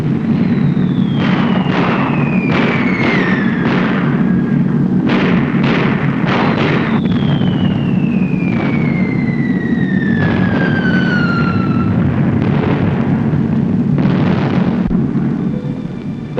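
Bombs released from B-17 bombers whistle as they fall, several overlapping descending tones sounding over a loud, steady engine drone, with low rumbling booms underneath.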